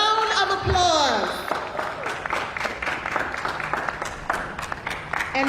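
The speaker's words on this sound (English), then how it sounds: "Let's give them all a round of applause." Audience at a Nurse of the Year 2021 award ceremony applauds the standing nominees, a spreading patter of claps rising after a voice at the start and continuing moderately loud to the end.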